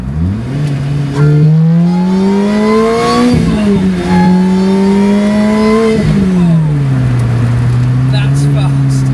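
A Lotus Exige S S2 accelerates hard from inside the cabin, its engine note climbing steeply through several gear changes, each rising sweep dropping at the shift, loud and close throughout.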